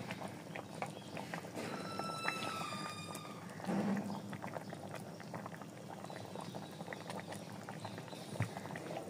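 Chicken simmering in water in a cooking pot, a steady rolling boil of dense bubbling and popping that holds throughout at moderate level, with no voices.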